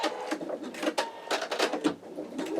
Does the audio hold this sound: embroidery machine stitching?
yes